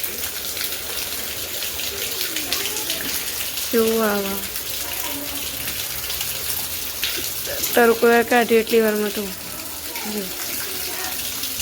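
Rainwater runs off a rooftop terrace during a rain shower, a steady splashing rush heard close by throughout, while people talk briefly over it in two short bursts.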